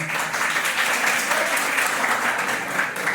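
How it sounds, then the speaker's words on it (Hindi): Children in a school classroom clapping together for their classmates, a steady dense patter of many small hands sustained throughout at moderate loudness. "जिन बच्चों को मालूम है वो बाकी बच्चों के लिए ताली बजाते"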